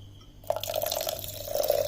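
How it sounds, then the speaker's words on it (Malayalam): A little water pours into a pot of seasoned buttermilk curry being readied to boil on a Kerala kitchen stove; after a brief quiet, a steady close-up trickling stream runs without any talking. "എന്നിട്ട് ഇതൊന്ന് നമുക്കൊന്ന് തിളപ്പിക്കാം ഇച്ചിരി വെള്ളം ഒഴിച്ച്"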